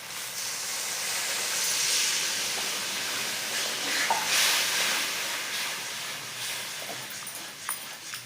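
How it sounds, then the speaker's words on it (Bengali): Prawn malai gravy made with coconut water bubbles in a pan, a soft continuous hiss with faint sputtering and small pops, fairly quiet and close. "দেখেন গ্রেভিটা ভালো করে ফুটে উঠছে"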